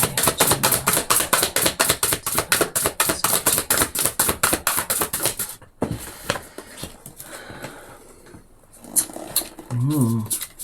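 Tarot cards are shuffled in rapid, rhythmic riffling bursts up close for several seconds, then stop, leaving softer handling rustles and a short voiced sound near the end.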